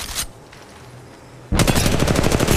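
Automatic gunfire in the Apex Legends Mobile battle royale game: a short burst, then a quiet pause, then a loud sustained rapid-fire volley of close, punchy shots.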